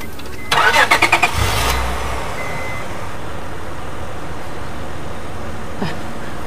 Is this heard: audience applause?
no